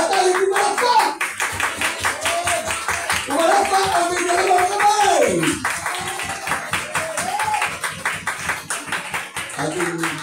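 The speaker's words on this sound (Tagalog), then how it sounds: "At tayo pumalakpak! Pumalakpak ang may dalawang kamay!" Church congregation at an anniversary service claps in a steady, rhythmic beat throughout, with voices talking and singing over the clapping.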